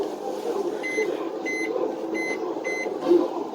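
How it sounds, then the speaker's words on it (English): A microwave oven runs with chunks of soap inside, a steady broadband hum filling the clip, with faint repeated high tonal beeps or whines pulsing through it. "Put it in the microwave."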